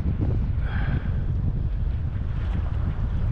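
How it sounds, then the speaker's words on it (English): A gust of wind buffets the microphone on the coast of the Isle of Skye, a loud, continuous rushing roar that swells and eases over a few seconds, with possible surf underneath and no talking. "Let's wait for this gust."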